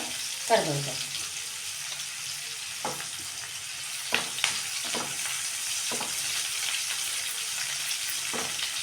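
Chopped onion fries in oil for an avarekalu palya, a steady moderate sizzle with scattered spoon-against-pan clicks and scrapes throughout.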